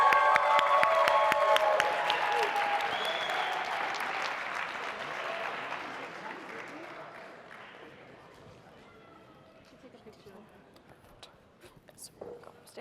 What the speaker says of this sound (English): we're going to do a round of applause for our Audience Choice Award winner